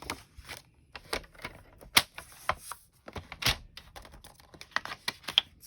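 A paper trimmer cuts a journal page down to a 3 1/4 inch strip, giving a run of sharp, close clicks and brief scraping slices at an uneven pace, with no talking.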